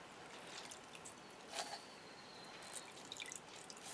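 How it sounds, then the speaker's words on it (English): Water drips and trickles off a sponge or cloth squeezed after being submerged, used to dampen paper for painting a sketchbook cover; quiet, scattered drops and a brief dribble heard close up with no talking. "I'm just going to submerge this in water, take it out, give it a squeeze"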